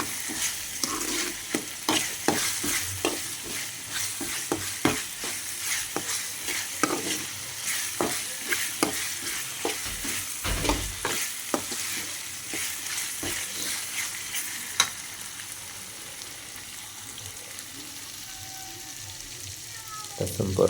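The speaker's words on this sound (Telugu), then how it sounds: "అల్లం వెల్లుల్లి పేస్ట్ బాగా వేగిపోయింది కదా" Ginger garlic paste frying in a pan for chicken kurma, a steady close sizzle with repeated scraping stirs of a spoon throughout, quieter toward the end.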